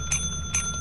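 A bell in the video game Lethal Company rings twice, two bright, short chimes about half a second apart, fairly quiet over a low background hum.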